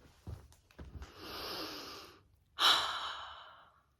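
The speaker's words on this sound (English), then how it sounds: "Enough breathing." A person breathes slowly and heavily near the microphone, with a couple of soft sniffs, a long exhale, a pause, then a sharper, louder breath out that tapers away; no talking.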